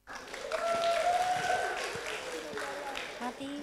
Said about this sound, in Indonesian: tepuk tangan untuk Mbak Tita